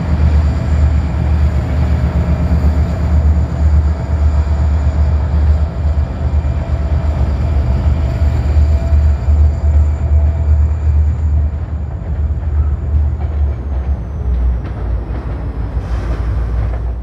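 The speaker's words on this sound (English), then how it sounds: "Back in town, they pull empty wood chip cars from the mill." Freight train pulling empty wood chip cars from a paper mill in town, a loud continuous low rumble of rolling cars and engine with a faint high whine fading near the end.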